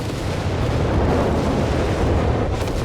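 Rocket launchers fire in a Company of Heroes 3 battle, aimed at a Wirbelwind flak vehicle, the blasts merging into a dense, continuous roar of explosive booms that stays loud and steady throughout.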